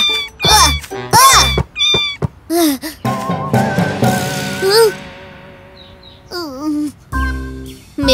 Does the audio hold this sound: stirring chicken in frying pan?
no